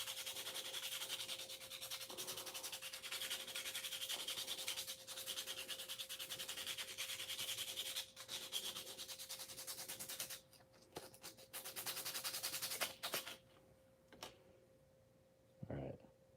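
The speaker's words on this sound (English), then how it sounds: "So I'm going to switch to a harsher sandpaper. This is 180, I think." Hand sanding with 180 grit sandpaper while shaping a designer toy: dense, continuous scratchy rubbing strokes, close and steady, breaking into shorter bursts and pauses near the end.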